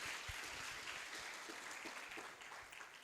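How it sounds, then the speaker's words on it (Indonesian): Audience applause fills a lecture hall welcoming an ustadz speaker, a steady dense clapping that holds for about three seconds and thins toward the end, with no voices over it. "Tepuk tangan semuanya buat beliau"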